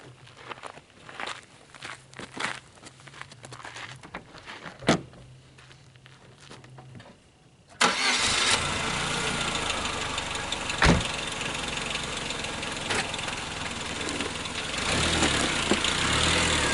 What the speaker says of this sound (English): So now I will position the ramps and drive the car up onto it.